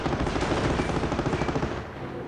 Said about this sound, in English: And machine gun emplacement for protection.